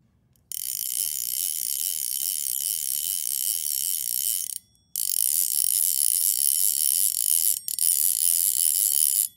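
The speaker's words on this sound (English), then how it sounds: "Up next is the sound, and as you'd expect from a click-pawl reel" Orvis Battenkill click-pawl fly reel spinning, a fast, bright, continuous ratcheting buzz heard up close in long runs broken by two brief pauses.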